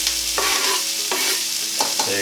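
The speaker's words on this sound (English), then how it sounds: "So straight away that's sizzling," Shredded jackfruit sizzles and crackles as it fries in a pan, a loud close steady hiss broken by a few stirring scrapes, with no voices.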